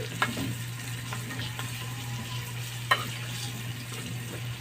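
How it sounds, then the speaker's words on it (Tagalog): Shrimp sautéing in butter in a pan, a steady close sizzle and frying crackle with occasional sharp clinks of a utensil stirring against the pan. "ginagisa na nato itong lamas"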